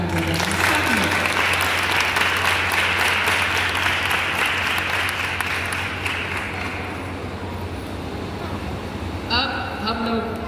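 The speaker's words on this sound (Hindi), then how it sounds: "आप बहन के लिए जोरदार ताली बजाइए सब लोग।" An audience at a women's meeting breaks into loud, sustained applause for a speaker, steady clapping over a low hum that tapers slightly near the end, where a few voices and chiming tones surface.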